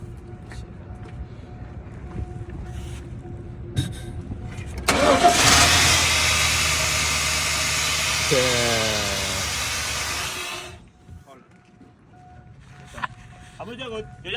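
A car engine cranks and catches abruptly, then roars loudly and settles into a running rumble for several seconds before cutting off, with voices talking faintly before and after.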